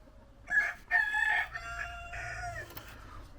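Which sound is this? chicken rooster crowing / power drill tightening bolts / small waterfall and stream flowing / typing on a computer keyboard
chicken rooster crowing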